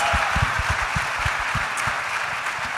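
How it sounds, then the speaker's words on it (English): Scattered applause from an audience honoring a Cleveland Browns rookie, individual claps standing out over a broad, steady wash of crowd noise. "Give him a round of applause"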